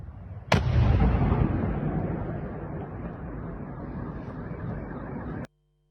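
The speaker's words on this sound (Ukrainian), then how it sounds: "де чітко чутно лише один вибух" A single sudden, powerful missile blast hitting an apartment block erupts, then a long roaring rumble slowly fades over several seconds before cutting off abruptly.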